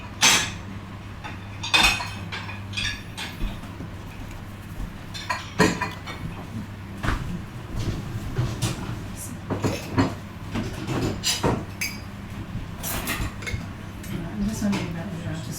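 Cutlery and dishes clink and rattle in a home kitchen with scattered sharp metallic clatters, a steady low hum underneath and someone talking intermittently.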